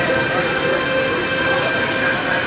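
Heavy rain pours during a storm at Cape Canaveral, a dense, steady loud hiss of falling water with a constant low rumble and no pauses.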